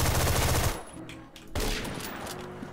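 A secondary gun in a shooter video game fires in two loud, rapid bursts of shots, separated by a brief pause, with no talking over them.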